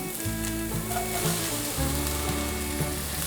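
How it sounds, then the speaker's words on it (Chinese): Shredded carrot and shiitake mushrooms stir-fried quickly in a wok, a close steady sizzle with quick tossing, under a sustained backdrop of music. "快速翻炒。"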